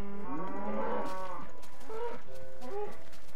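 Minecraft cows moo a few times in a row, low drawn-out calls at moderate distance with quiet gaps between them.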